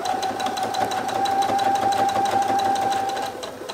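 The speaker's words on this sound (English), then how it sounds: "Just gonna go ahead and sew it down." A Brother sewing machine stitches pillow case fabric with a fast, steady mechanical whir and rapid needle clatter running nearly the whole time, slowing slightly at the end.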